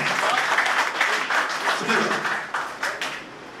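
Audience clapping at a mushaira poetry gathering in Bhiwandi, a dense, steady patter of applause from a crowd that thins slightly toward the end, with some voices mixed in.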